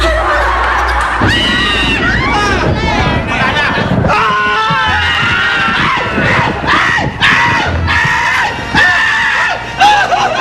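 A crowd of people scream and shriek in loud, overlapping bursts, mixed with yelling, nervous laughter and chatter, with a couple of bangs in between.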